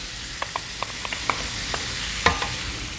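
Tomato sauce for seafood spaghetti sizzles steadily in a frying pan while a utensil scrapes and taps through it in irregular close strokes, with no talking.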